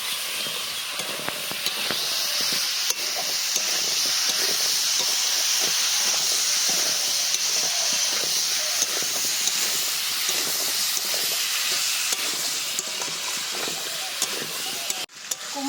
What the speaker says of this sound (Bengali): এবার এটাকে খুব ভালো করে আগে ভেজে নেব।